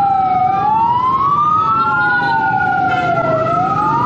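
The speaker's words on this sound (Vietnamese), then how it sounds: "xe cứu thương đi đường này vô nữa" An ambulance siren wails on a busy street in Binh Chanh, Saigon, its rising and falling tone loud and close with a steady traffic rumble underneath.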